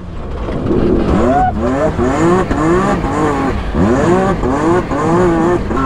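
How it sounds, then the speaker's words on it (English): Tyres squeal and an engine revs as a car slides sideways through a drift in a racing video game, loud and continuous with rising and falling engine pitch sweeps, while a voice talks over it. "initiating that first drift to like get this thing sideways"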